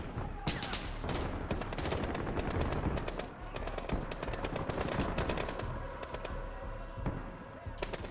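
Rapid gunfire in the shooter Call of Duty Modern Warfare, during a fight at an embassy: sharp bursts and single cracks repeat through a loud, busy firefight, with some voices mixed in.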